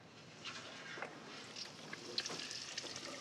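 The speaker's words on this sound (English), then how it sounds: "Listen to the sizzle." A whole turkey deep-frying in hot oil outdoors, a faint, steady crackling sizzle with small pops, heard from a short distance.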